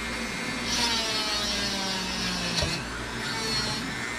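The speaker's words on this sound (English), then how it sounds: "Now right here I can drill a hole right there" A small VEVOR rotary tool whirs steadily at close range, drilling a hole, its high buzzing pitch dipping briefly as the bit bites into the material, with no voices.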